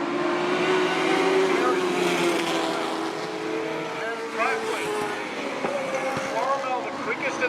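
Midget race cars roar around the Wahgunyah Speedway dirt oval in Australia during a GP Midget title race, a steady loud engine drone with pitch swells as cars pass, while a commentator talks over the action.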